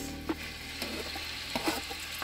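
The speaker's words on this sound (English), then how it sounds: "add your cut up bacon to your thing, and you're gonna wanna saute it for about 3 minutes" Cut-up bacon sautés in a pan for spaghetti carbonara, giving a steady, quiet sizzle with a few small pops and crackles scattered through it.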